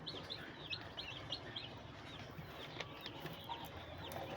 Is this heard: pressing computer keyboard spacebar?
no